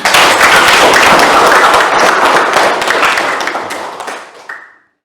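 A classroom of students applauds group 4 after their presentation, a loud, close burst of brisk clapping for about four seconds that tapers off, ending in a short faint tone.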